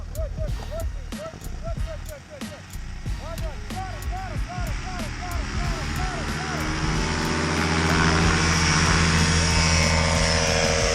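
A BlackHawk Lite 125 paramotor flies with a loud, steady propeller-engine drone that builds and grows rougher over time, while people talk over it and birds chirp briefly early on.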